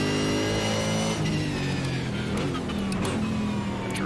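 Supercar racing engine in iRacing at Winton Motor Raceway, droning loud and close with its pitch sliding down as it decelerates, then a few quick revs and blips on the downshift.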